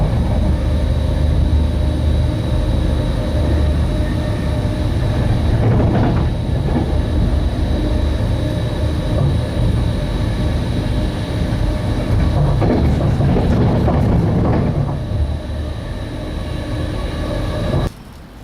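A passenger train runs steadily throughout, a continuous loud rumble with rolling rail noise that dips slightly near the end.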